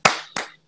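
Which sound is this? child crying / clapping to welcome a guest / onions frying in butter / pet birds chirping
clapping to welcome a guest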